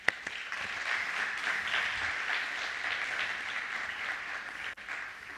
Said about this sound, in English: welcome them with rapturous applause